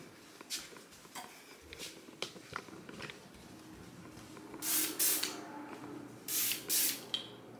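A Bath and Body Works mahogany teakwood room spray is pumped in several short hissing bursts, two sets of paired sprays following softer clicks and rustles close by.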